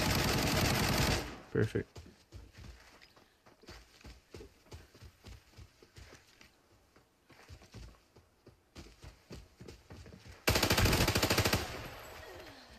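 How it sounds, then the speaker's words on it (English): Enemy gunfire in the shooter game Arena Breakout: a long run of rapid, evenly spaced automatic shots, with louder bursts at the start and end, and a brief spoken word near the beginning. "I want him to shoot at me, but don't kill me."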